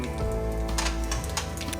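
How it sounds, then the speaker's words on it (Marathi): Mustard seeds crackle and spatter in hot oil, with quick irregular pops over a low steady hum, close by. "आता दोन चमचे तेल गरम झालं आहे त्याच्यामध्ये मोहरी"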